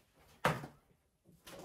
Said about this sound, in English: Give me 1 second so I can close this door.